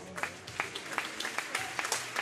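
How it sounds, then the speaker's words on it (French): An indoor crowd at the Metz athletics meeting claps for a sprinter after the men's 60m final, a dense patter of applause that rises and falls in quick bursts. "Vous pouvez l'applaudir très fort."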